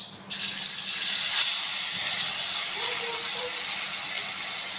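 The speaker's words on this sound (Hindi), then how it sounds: "और मैं इसमें डाल रही हूँ थोड़ा सा पानी, ताकि जो हमारा मसाला वो जले नहीं और अच्छी तरह से फ्राई हो जाए।" Water splashes into spice masala frying in a pan, triggering a sudden loud hiss that holds as a steady, close sizzle for several seconds.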